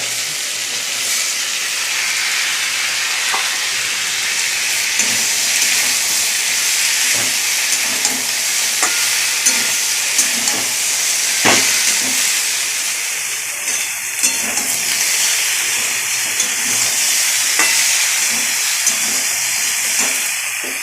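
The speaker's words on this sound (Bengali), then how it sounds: "তারপরে সবজিটা দিয়ে দেবো, দুটো ঝিঙে, টমেটো, একটু বেগুন" Ridge gourd, tomato and eggplant fry in a hot pan, giving a steady, fairly loud sizzling hiss with scattered small pops and crackles throughout, no voices present.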